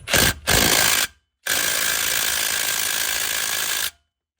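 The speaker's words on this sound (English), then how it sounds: "you can use a breaker bar, or I have an Impact, and it's a 21 on a wiggly 90-degree socket" An impact wrench with a 21 mm wobble socket loosens a brake caliper bolt on a C5/C6 Corvette during a front brake job. It gives two short bursts, then one longer sustained rattling run of about two and a half seconds. No one speaks.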